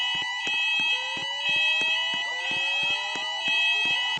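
A fire alarm sounds in a shopping mall (Master Mall), a loud, steady electronic tone broken by a rapid, even pulsing that runs through the whole stretch with no talking.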